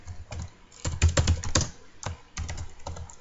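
Fast bursts of typing on a computer keyboard while writing Java code, clicks bunched in quick runs with short gaps, close and clear with no talking.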